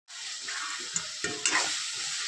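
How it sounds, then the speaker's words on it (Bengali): Mutton frying with chilli powder, ginger and other spices while being stirred, a close continuous sizzle broken by a few sharp spoon scrapes against the pan. "একটু কষিয়ে নেব নাড়াচাড়া করে"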